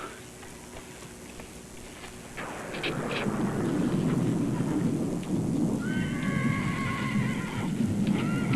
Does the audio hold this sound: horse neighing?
yes